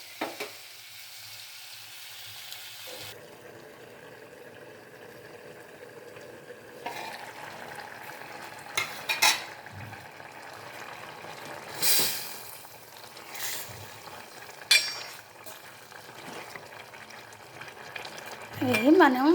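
Tomatoes and raw mango pieces frying with dried fish in a pan, giving a soft, steady sizzle with occasional stirring clatters and bumps, close by and fairly quiet.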